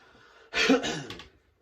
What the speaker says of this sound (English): I shouldn't be coughing